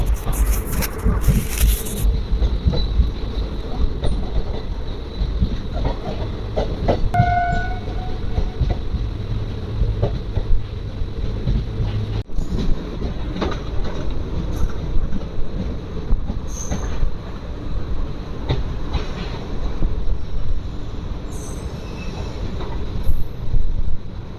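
An intercity express train rumbles continuously through a loop line at a station in India, with wheel noise, rattling and occasional squeals and clanks, loud and close throughout.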